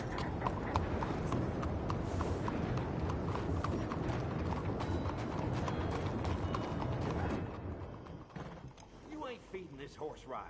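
Horse hooves clop steadily and close in Red Dead Redemption 2, with creaking tack and rattling gear alongside, until the hoofbeats fade near the end and a voice speaks over quieter background.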